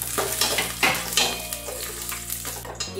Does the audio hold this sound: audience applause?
no